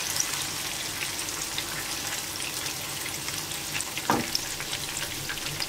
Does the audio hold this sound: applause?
no